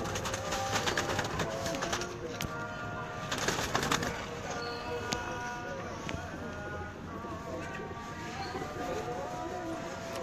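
Pigeons coo repeatedly in a busy loft in Faisalabad, soft throaty calls layered over a dense noisy background, with someone talking throughout and occasional clicks and clatter.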